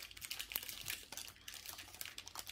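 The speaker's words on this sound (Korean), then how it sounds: "피카츄 비닐을 좀 벗어야겠다." Plastic wrap crinkling as it is peeled off a Pikachu Pokémon card box, soft irregular crackles and rustles, faint and close, with no talk.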